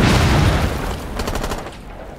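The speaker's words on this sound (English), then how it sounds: "I can turn my gun sideways, so that means I can shoot faster." Rapid gunfire from a gun held sideways in the video game Rainbow Six Siege, a loud dense burst at the start that thins into a fast, steady rattle of shots for about two seconds.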